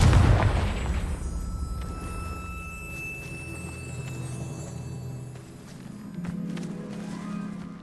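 A Confringo fire spell bursts in the Hogwarts Legacy video game with a loud, close, booming blast that decays into a low hum, followed by a steady tone and soft footsteps.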